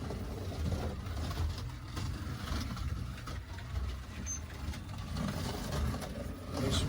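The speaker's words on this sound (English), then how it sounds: "It's running so much better. It's sticking to the track a lot more." Scalextric slot car running magless around the track, fitted with new tyres, a steady motor whine and rolling drone that rises and falls slightly as the car laps, fairly close and continuous with no talking.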